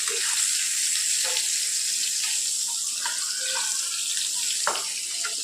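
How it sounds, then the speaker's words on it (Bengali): Vegetables are washed under running tap water, a steady, close splashing hiss with occasional light knocks and clatter from the sink. "তো চলো সবজিগুলো আগে ধুয়ে নিই"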